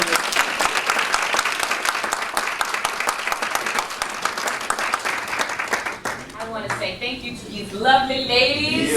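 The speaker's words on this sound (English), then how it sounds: "Can we please give a round of applause for Ms." A banquet-room crowd at an NAACP breakfast gives a round of applause, steady clapping for several seconds that gives way to a voice speaking over fading claps.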